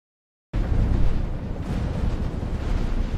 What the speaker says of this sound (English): The American ships began dropping small practice depth charges.